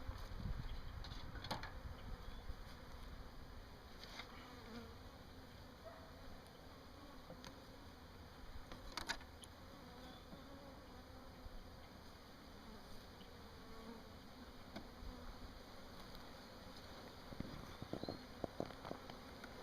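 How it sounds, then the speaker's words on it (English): A queenless honeybee hive, wrapped in insulation for winter, gives off a steady low buzzing hum, with a few louder passes of bees close by. "Now they got a different sound to them because they don't have their queen."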